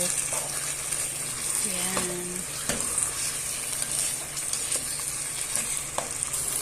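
Broth poured into a pan of hot sizzling oil during home cooking: steady frying hiss with a short pouring gurgle and a few clinks of utensils, under occasional faint talk.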